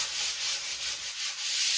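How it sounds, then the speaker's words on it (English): 220-grit sandpaper rubs along the grain of wood during restoration of a 1971 13-foot Boston Whaler, a close, steady scratchy hiss with rhythmic back-and-forth strokes roughly every quarter second, with no talking. "we got 220 grit sandpaper here, sanding with the grain"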